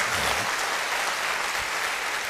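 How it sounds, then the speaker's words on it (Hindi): A large audience at a network marketing motivational event claps steadily and loudly in a dense, continuous wash of applause. "एक बार जबरदस्त तालियां मेरी मां के लिए मार दीजिए"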